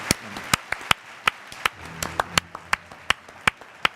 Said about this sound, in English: Round of applause for the shark